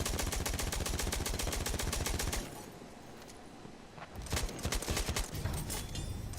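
Gunfire in the Battlefield 1 shooter game, opening with a loud, rapid automatic burst. After a brief lull, more volleys of shots crackle in.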